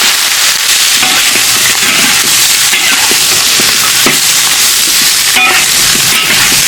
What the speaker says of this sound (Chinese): 我就用油啊给它炒一下